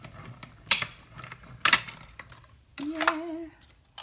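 A small hand-cranked mini die-cutting machine rolling cutting plates through, giving sharp mechanical clicks and ratcheting clunks about a second apart, then a short creaking whine near the end, close up and without speech.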